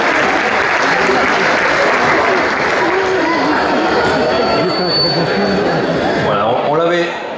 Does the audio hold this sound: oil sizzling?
no